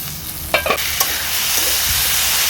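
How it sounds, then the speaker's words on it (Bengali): A lid comes off a pan of kalmi (water spinach) greens with a short clatter of knocks, then steady, close sizzling and bubbling of the cooking greens fills the rest, with no talking. "বেশ কিছুক্ষণ হয়ে গেছে, ঢাকনাটা তুলে দেখে নিচ্ছি।"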